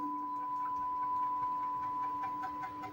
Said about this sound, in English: we're going to jog the machine into our material